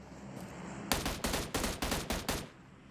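A rapid burst of six or seven loud, close gunshots in a PUBG Mobile match, evenly spaced over about a second and a half, cutting sharply above a quieter background.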